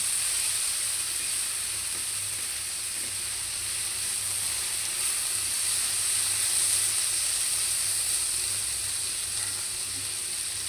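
Bitter gourd and potatoes fry in a pan, giving a steady, even sizzle and hiss that holds close and unbroken throughout, with no voices.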